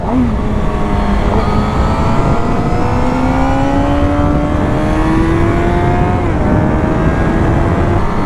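A Suzuki GSX-R 750 sports bike is ridden with a loud, steady engine roar, its pitch sliding up through the gears and dipping at shifts, heavy wind rush filling the background.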